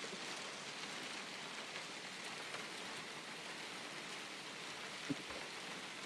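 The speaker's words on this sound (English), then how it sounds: "that hail, it's definitely falling right now" Hailstones fall during a severe storm in a steady, dense hiss of impacts, fairly faint and even throughout, with one sharper knock near the end.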